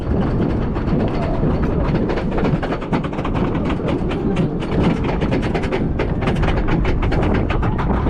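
Loud, steady rumble of a small amusement park train rolling along at Walibi Belgium, with rapid rhythmic clacking of wheels on track close by.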